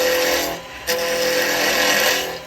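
Wood lathe spinning as a carbide chisel cuts end grain, a continuous dense whir and scraping hiss with one sharp catch midway, close and loud.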